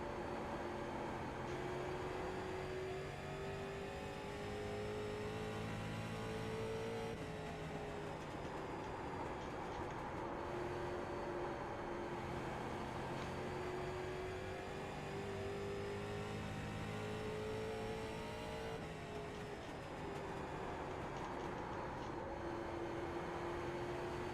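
A race car engine drones through a sim racing lap on a Fanatec CSL DD wheel, steady and fairly faint, its pitch rising and dropping repeatedly as the car accelerates and shifts through corners.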